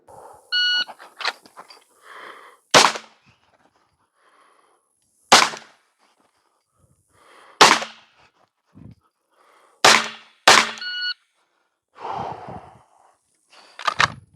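Sharp, loud gunshots at a shooting competition stage, about six or seven isolated cracks spaced a few seconds apart, with a quick double shot near the end and electronic timer beeps between them.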